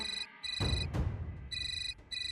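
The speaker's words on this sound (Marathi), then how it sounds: "अहो माझा फोन असतो." A mobile phone ringtone plays a repeating bright electronic melody. It is interrupted by loud thuds and a crash from wrestling play in a home, then resumes clearly.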